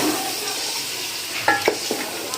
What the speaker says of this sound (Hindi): और इसको मिक्स कर दूँगी।